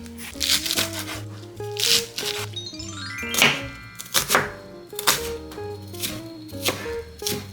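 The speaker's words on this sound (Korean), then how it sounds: "고추랑 양파를 손질을 할 거예요" Chili peppers and onions being chopped with a knife, a series of crisp, fairly close blade strokes in uneven clusters over soft background music.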